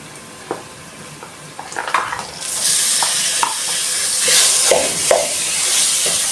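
Minced meat hitting a hot pan for spaghetti, with a few scraping stirs followed by a loud, sustained sizzle that swells and hisses close by, broken by occasional utensil scrapes.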